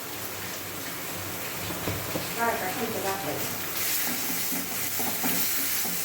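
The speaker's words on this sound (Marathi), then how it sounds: "मिक्स करून घेऊया" Spices are stirred in a hot pan while making a Solapur-style chilli dish, with a soft sizzle and scraping under a person talking, growing slightly brighter toward the end.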